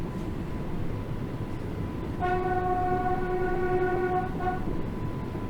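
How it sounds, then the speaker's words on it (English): A train whistle from the Isle of Wight line in a Train Sim World 2 scenario sounds as one sustained, loud tonal blast of about two seconds over a steady rumbling engine drone. "Let's do the whistle."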